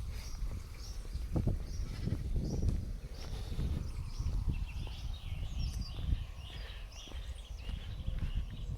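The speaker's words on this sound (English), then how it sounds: "There's some sheep grazing over there." Sheep grazing on a hillside in Tobago bleat intermittently at a distance. The calls are faint and come over a soft outdoor background, with no talk.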